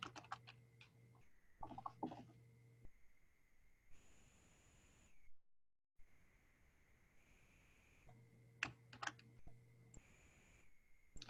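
Typing on a computer keyboard: quick bursts of close, dry key clicks come in short runs, break off into a quiet stretch, then resume with more rapid tapping.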